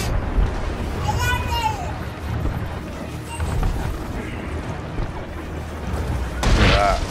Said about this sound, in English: We got cannons coming in everywhere,